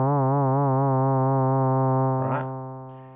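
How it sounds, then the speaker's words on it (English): A buzzy Novation Circuit synthesizer tone holds a low note while its pitch wobbles gently up and down in a slow, regular sine LFO vibrato before fading out. "you'll hear the pitch go up and down, right, at that rate"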